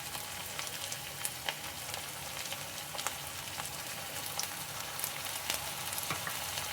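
Ginger garlic paste sizzles in a hot pan for Andhra-style chilli chicken, a steady fine crackle and spatter with small pops throughout, moderately quiet and free of talk.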